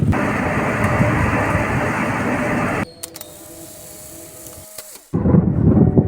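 Heavy rain pours in a dense steady hiss, cuts out to a quiet stretch of faint clicks and hum, then the downpour returns loudly.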